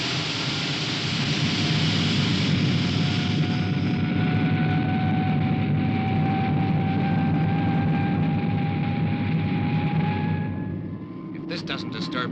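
A roaring jet-like engine blast as a Supercar takes off vertically at full throttle, loud and steady with a faint rising whine, before fading near the end.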